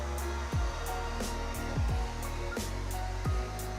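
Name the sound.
hair dryer drying a toy poodle's hair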